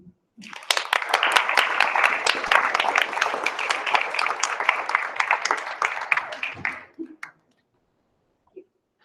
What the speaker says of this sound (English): Let's give another round of applause for Donna, please.